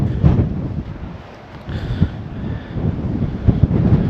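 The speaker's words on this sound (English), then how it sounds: "I cannot tell you how windy it is." Strong winter wind roaring and buffeting a microphone close up at Ladybower reservoir, steady rumbling gusts with no talking.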